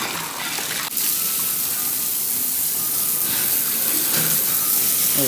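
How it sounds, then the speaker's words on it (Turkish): Water from a hose gushes and sprays steadily across a barn walkway floor, a continuous close hiss that picks up after a short start and carries on without talk. "Şimdi şu yürüme yolumuzda yıkayalım."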